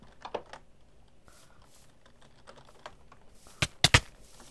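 Soft keystrokes on a computer keyboard during an online PvP game, scattered quiet taps followed by a few sharp, louder clicks near the end, with no talking.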